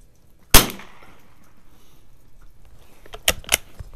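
A 1935-37 Mossberg No.42 .22lr bolt-action rifle fires a single sharp, close shot at a range, followed by a quiet pause and a few clicking, clattering bolt and handling sounds.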